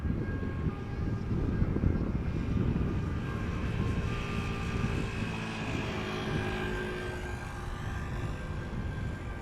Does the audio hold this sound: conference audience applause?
no